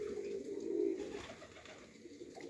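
Baku marble pigeons coo in a village in Dagestan, one soft low coo swelling near the start and then fading under a faint, steady background.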